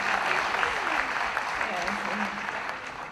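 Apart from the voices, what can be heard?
audience clapping at certificate presentation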